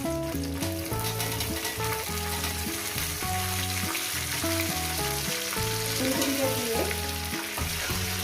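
Cauliflower florets frying in a pan for a Bengali aloo posto dish, with a dense, even sizzle running steadily underneath. Music plays loudly over it the whole time, so the frying sits partly masked beneath the melody.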